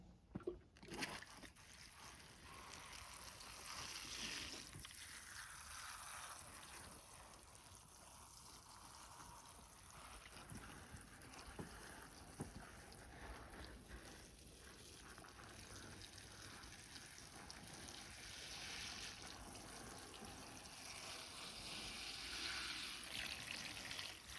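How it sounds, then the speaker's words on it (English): Water trickles and sloshes steadily for a long stretch as apple tree and dawn redwood bonsai cuttings are watered, a soft, continuous pouring with occasional splashes, quiet and close. "let's get a little bit more water on these."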